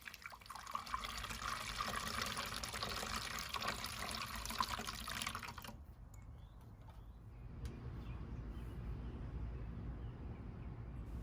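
Water pours in a steady stream into a container for several seconds, then stops, leaving a faint trickle and quiet room noise.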